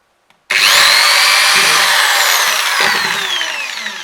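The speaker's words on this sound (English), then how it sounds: "So I have drilling machine and I make a new hole." A small power drill whines loudly and continuously into a wooden violin peg after a brief click, the pitch sliding slightly as it bites, close up.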